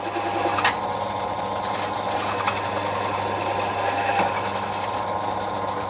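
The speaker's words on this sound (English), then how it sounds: "Let's get a hole cut in it first." A hole cutter grinds steadily through metal on a shed-built bobber motorcycle project, a continuous close, loud whirring buzz with a few sharp metallic clicks along the way.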